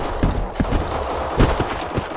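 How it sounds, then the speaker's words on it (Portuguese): Gunfire in the online shooter Black Squad during a clan match, with rapid bursts of shots at close range and a few louder reports, running without pause and with no talking. "Tô tomando tiro da onde, véi? Tô tomando tiro do meio"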